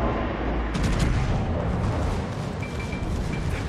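Naval guns of the battleship Mikasa firing in World of Warships, dense booming rumble with overlapping blasts, loud and sustained throughout.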